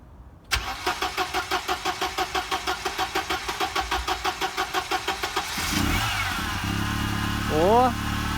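Mercedes W201 190E with M102 engine and E-Jetronic injection cranking loudly with a rapid, even chugging rhythm before catching and settling into a steady idle, close by, with a brief voice near the end.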